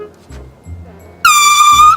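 An air horn rigged in a garage corner by the door blasts once, loud and sustained, cutting in sharply after a moment of low background rumble.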